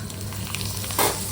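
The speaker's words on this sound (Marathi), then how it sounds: "आपण तळून बघूया" Homemade Diwali snack frying in hot oil, a steady close crackling sizzle with a brief louder hiss as something drops in.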